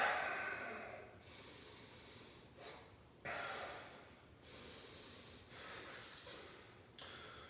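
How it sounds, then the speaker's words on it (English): Slow yoga breaths in a vinyasa practice, several airy exhalations and inhalations at a calm, even pace, close and fairly quiet with no talk. "Breathing out."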